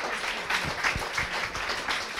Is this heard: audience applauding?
yes